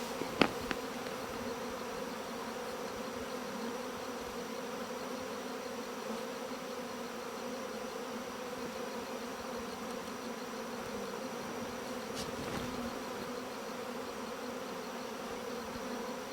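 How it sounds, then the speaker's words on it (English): A steady, dense buzzing of many bees from a caught swarm in a box fills the whole stretch, constant and close, with a couple of brief clicks near the start. "I've got a ton of bees in this box"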